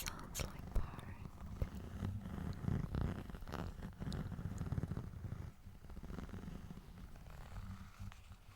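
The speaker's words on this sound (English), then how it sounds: "Sounds like purring." A soft, continuous rumbling purr close to the microphone, steady with slight pulsing, with faint breathy noise throughout.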